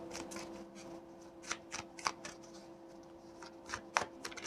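A tarot card deck is shuffled close up, quiet riffling and soft papery flicks with a few sharper snaps, irregular bursts over a low steady background hum.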